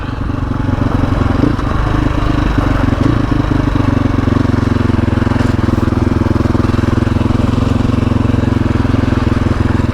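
Sherco 500 adventure motorcycle riding on country roads, its single engine droning loud and steady close to the rider with a constant throbbing rumble throughout.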